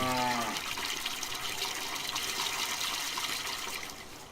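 Running water hisses steadily as environmental ambience on a Tyrolean Alps map in a farming game, preceded by a short low animal-like tone at the start, then fading slightly toward the end.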